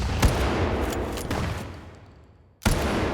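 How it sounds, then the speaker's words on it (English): Three loud, punchy layered shotgun blasts, a sound effect, sound one after another, each with a booming body and a ringing tail that fades before the next hits. "I was able to get a very believable gunshot blast."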